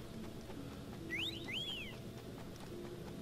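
A character in Yooka-Laylee whistles two short rising-and-falling tones in quick succession, clear and moderately loud over a steady low game ambience.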